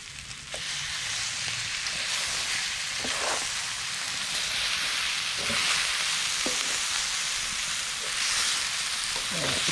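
Potatoes fry in a pan at a camp cooking setup, a steady dense sizzle with crackles and occasional scraping stirs, close and continuous with no talking.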